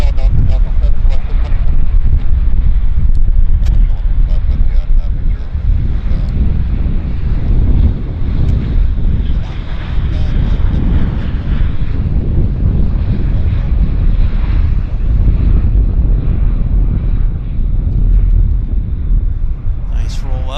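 A WestJet airliner rolls out along the runway at Vancouver airport, a loud, steady jet roar mixed with heavy wind buffeting on the microphone that lasts the whole stretch.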